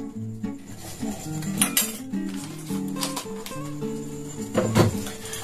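Metal spoon clinks and scrapes against a bowl while about two spoonfuls of cornflour go into dough for Dhakai paratha, several light irregular taps close by over a kitchen background.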